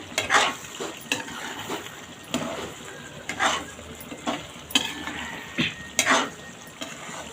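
A spoon stirs farm-chicken curry with green masala in a pot, giving repeated scraping, sizzling sweeps at an irregular rhythm, close and moderately loud, with no talk.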